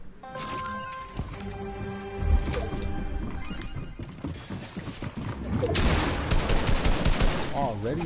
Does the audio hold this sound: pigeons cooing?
no